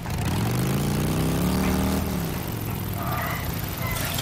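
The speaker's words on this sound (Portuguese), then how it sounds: "Deixa eu levar a moto lá pra dentro." A motorcycle engine in the video game Days Gone revs up to a rising growl, then drops to a rough idle, loud and close.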